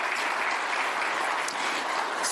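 An audience applauding at a speech by Togo's Prime Minister, dense continuous clapping that stays even and moderately loud throughout.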